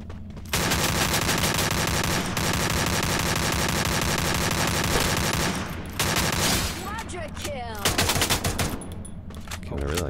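Rapid automatic gunfire from the Free Fire battle royale game, dense and loud bursts running almost continuously, with brief gaps and shifting weapon tones near the end.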